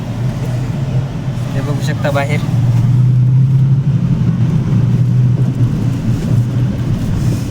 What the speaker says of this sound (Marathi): आणि गाडी आता निघलेली